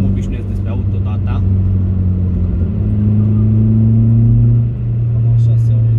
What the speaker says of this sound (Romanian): Cam așa se aude în interior cu toba, într-o mașină sport